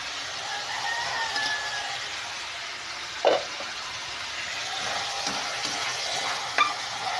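Vegetables for pinakbet, browned with garlic, sizzle and fry steadily in a pan as tomatoes go in, with a steady close hiss and a couple of brief stirring clanks, and no voices.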